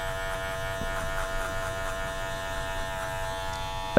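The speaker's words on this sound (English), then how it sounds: "we just fan the clipper over the hair going in at a slight angle" Electric hair clipper fanned at a slight angle through a thin beard, a steady close buzzing hum running without a break, with no talk over it.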